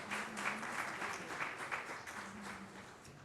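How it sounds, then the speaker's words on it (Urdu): An audience at a reception ceremony for an Olympic javelin champion breaks into steady, fairly distant applause, many hands clapping in a continuous wash with a faint voice underneath. "ان کے لیے بھرپور تالی لگائیں."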